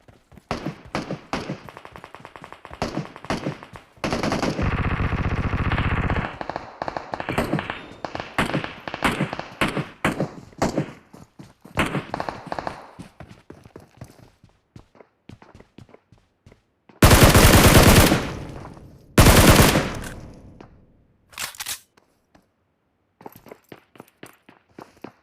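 Gunfire in the PUBG Mobile video game comes as bursts of sharp, rapid shots and single cracks with gaps between, some very loud and close, alongside quieter taps like footsteps.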